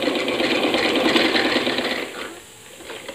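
A sewing machine stitches a salwar hem in a steady, rapid mechanical whir that runs continuously, then eases off and softens near the end; no one speaks.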